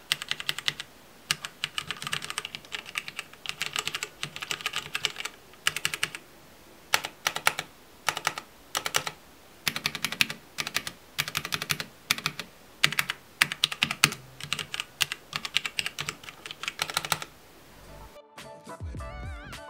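Bursts of clacky mechanical key presses on a Tesoro Tizona gaming numpad, rapid and close, in uneven typing runs with brief pauses, ending abruptly.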